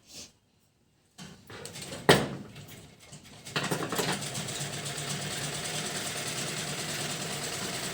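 A sewing machine stitches fabric during a women's tailoring lesson, starting after a brief pause and then running as a steady continuous motor whir, preceded by a sharp clack and some handling of the machine.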